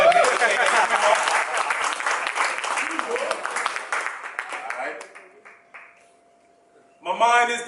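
A small studio audience claps and cheers loudly for a rap performer, the applause thinning out and fading to near silence before a voice starts talking at the very end.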